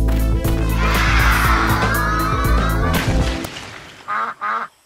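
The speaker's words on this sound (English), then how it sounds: "duck." A duck quacks in a cartoon animal-names quiz, two short nasal calls near the end, preceded by a loud layer of music and effects that dominates most of the moment.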